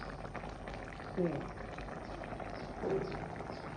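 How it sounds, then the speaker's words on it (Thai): Catfish jungle curry with fingerroot and eggplant bubbles in a pot, a steady close simmering hiss with occasional louder bubble bursts. "เดี๋ยวเราให้เดือดอีกสักพักนึงก่อนนะคะ"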